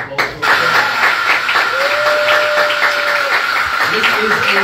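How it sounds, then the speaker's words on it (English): Crowd applause at an artist workshop and mic check show, a dense continuous patter of clapping hands from the audience that starts abruptly and holds steady, with a brief voice near the end. "Why don't y'all give her a round of applause for her?"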